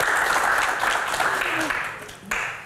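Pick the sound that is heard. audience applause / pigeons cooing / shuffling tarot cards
audience applause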